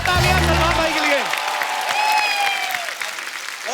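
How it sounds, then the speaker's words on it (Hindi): Studio audience applause on a comedy talk show swells loudly and close, a dense sustained clatter of clapping, with a host's voice speaking and some musical tones over it at the start. "एक बार जोरदार तालियां सलमान भाई के लिए।"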